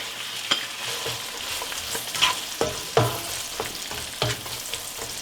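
Anchovies, garlic and onion sauté in a pan with a constant bright sizzle, punctuated by repeated clacks and scrapes of a utensil stirring the mixture.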